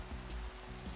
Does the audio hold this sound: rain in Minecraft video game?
yes